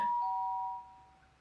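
A doorbell rings at the front door of a house at 3 in the morning, picked up by a Ring doorbell camera: a single clear two-tone chime that hangs briefly, then fades into a quiet, faintly hissing background.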